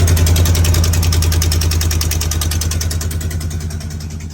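Ford F-150 engine with an exhaust manifold leak and new spark plugs, idling loud and close with a rapid, rough ticking pulse that slowly fades, no voices.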